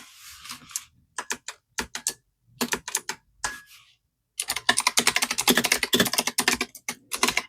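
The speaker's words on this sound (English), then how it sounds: "And don't mind me typing here." Bursts of computer keyboard typing, short irregular clusters of key taps with pauses, then a fast continuous run of clicking near the microphone.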